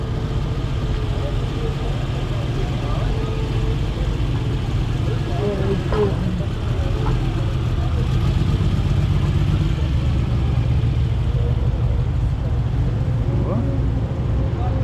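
A car's engine runs as it drives up onto a car transporter during loading after an auction, a steady low rumble held at an even level throughout, with faint background murmur.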